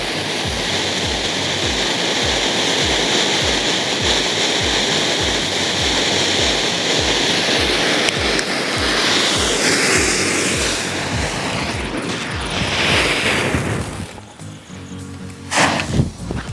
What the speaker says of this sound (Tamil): ட்ரை கலர் அப்படின்னு சொல்லிட்டு ஒரு கிராக்கர் வந்துருக்கு